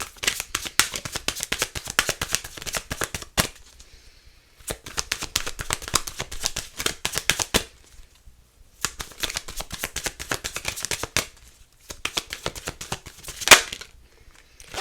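Tarot cards shuffled in quick bursts of riffling and flicking, with short pauses between rounds and a final card pulled with a sharp snap near the end, close and alone without talk.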